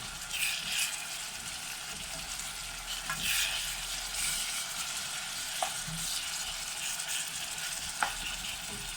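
Chopped leek frying in hot oil in a pan over medium heat, a steady close sizzle with occasional scrapes and taps of stirring, no voices.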